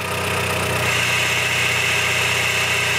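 Manual transmission of a 2000 Honda Civic Si heard up close with the clutch pedal released, a steady idling drone with a low mechanical hum and a faint whine, continuous and even throughout.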